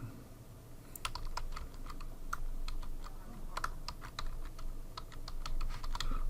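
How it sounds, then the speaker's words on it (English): Typing on a computer keyboard, with irregular bursts of close, crisp key clicks over a quiet room background and no talking. "And then I'm gonna type the stuff in."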